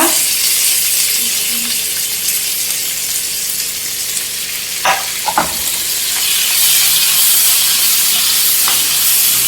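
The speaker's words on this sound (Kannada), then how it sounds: "ಹಾಗೆ ನಾನು ಇದಕ್ಕೆ ಈರುಳ್ಳಿ ಹೆಚ್ಕೊಂಡಿದ್ನಲ್ವ ಅದನ್ನು ಕೂಡ ಹಾಕ್ತಾ ಇದ್ದೀನಿ ನೋಡಿ" Chopped onion drops into a hot garlic tempering for a bitter gourd stir-fry, setting off a continuous bright sizzle in the pan, broken by a few clinks of stirring midway.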